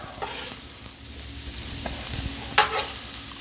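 Butter sizzles quietly on a hot flat-top griddle where chicken fajita meat, peppers and onions are cooking, a faint steady fry broken by a sharp spatula scrape near the end.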